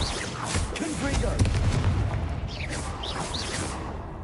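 Confringo fire spell bursts in Hogwarts Legacy, played on PS5: a dense run of booming, crackling blasts and whooshes packed into a few seconds, loud and close, with a voice shouting over the gameplay.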